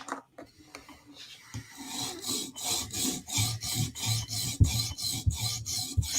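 Knife blade being sharpened on a TSProf Kadet sharpener with vertical sawing strokes: rapid, rhythmic rasping scrapes, close and fairly quiet, repeating evenly and getting faster and steadier as the clip goes on.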